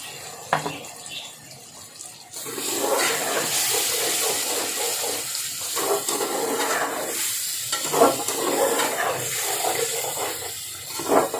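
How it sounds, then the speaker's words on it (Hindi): Steady rushing and splashing of water poured into a pan, loud and close, running continuously for most of the clip with small fluctuations. "थोड़ा सा इसमें पानी डाल दें ताकि ये नीचे ना लगे"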